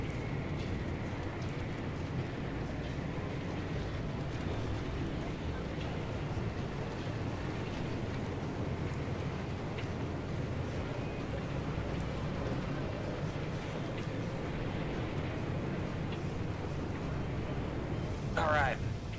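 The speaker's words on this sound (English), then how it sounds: "It's fine, it's just a rainstorm." Steady roar of a video game rainstorm with gusting wind, a constant dense wash of noise holding throughout with talk over it.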